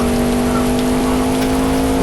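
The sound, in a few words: heavy rain falling during monsoon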